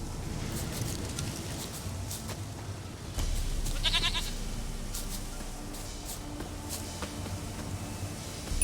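A goat in The Witcher 3 video game gives several bleats over a steady low game ambience, with faint pattering and bird-like sounds in the background.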